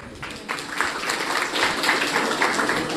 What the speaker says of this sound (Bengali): শুভেচ্ছা এবং অভিনন্দন জানাচ্ছি আপনাদেরকে একটা হাততালি দিয়ে